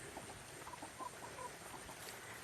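Soft, scattered clucking from a few hens nearby over a steady background hum, with brief higher chirps mixed in.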